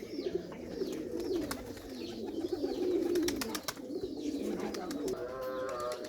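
Pigeons coo steadily on a rooftop loft of breeder and flying birds in Lala Musa, with soft overlapping calls near and far and a few sharp chirps and flutters scattered through.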